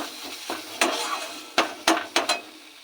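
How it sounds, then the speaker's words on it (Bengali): A paste of gourd peel and pointed gourd peel frying in oil until the oil separates: a low sizzle broken by several sharp spatula scrapes and knocks against the pan, close and without talk. "ভাজা হয়ে একদম তেল ছেড়ে আসছে"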